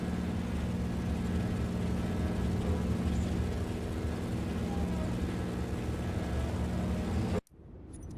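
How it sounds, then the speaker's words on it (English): Steady aircraft engine drone in Microsoft Flight Simulator 2024, a loud continuous hum with a low tonal buzz holding evenly for over seven seconds before cutting off abruptly near the end. "Is that my engine making that noise?"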